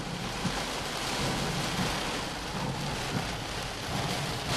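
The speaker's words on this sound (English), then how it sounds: "it's raining too hard, so there's going to be a lot of rain coming in" Steady, dense downpour of heavy hurricane rain during Hurricane Earl in 2010, hissing continuously, with a low rumbling undertone throughout.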